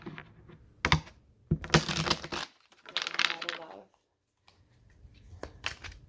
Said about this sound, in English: They want me to shuffle a lot